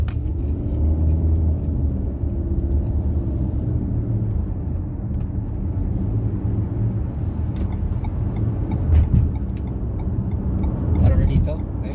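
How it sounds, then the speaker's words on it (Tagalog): Car traffic rumbles steadily close by on a congested road, a constant low engine drone with a few louder swells, while someone talks over it throughout. "Sobrang traffic dito."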